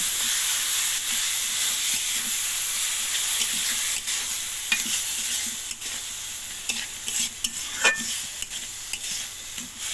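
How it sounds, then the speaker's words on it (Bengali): Washed lentils get stirred into fried spices in a pan as a steady sizzle and hiss runs underneath, with repeated scraping strokes and occasional sharp clinks of the spoon against the pan. "এখন আগে থেকে ধুয়ে রাখা ডালগুলো আমি দিয়ে মশলার সাথে ভালোভাবে নেড়ে চেড়ে"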